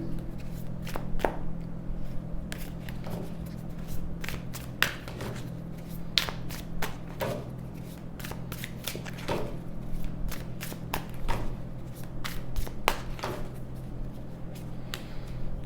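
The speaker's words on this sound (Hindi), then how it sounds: "Okay, let's pull some more cards for all you people." Tarot cards shuffled and pulled during a reading, a close, quiet run of rapid papery riffles and crisp snaps repeating irregularly, with no talk.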